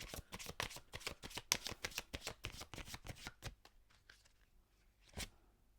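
A deck of tarot cards is shuffled close up in a quick, fluttering run of riffles, then goes quiet before a single crisp snap as a card is drawn.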